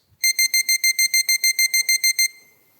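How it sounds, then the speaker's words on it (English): Six-minute warning alarm at a pitch competition stage: a rapid series of about fifteen identical bright electronic beeps in quick regular rhythm, clear and loud, with no speech. "Now, please note that you will have a 6-minute warning, which sounds like this."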